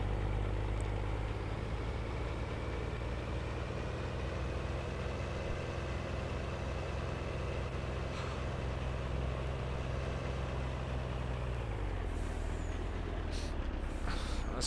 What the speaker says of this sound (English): No problem for the cat truck.